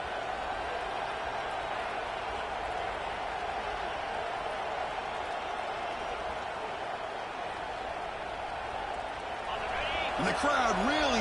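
Steady roar of a stadium crowd in a college football video game, Texas hosting LSU near the goal line, swelling louder toward the end, with commentary voices over it.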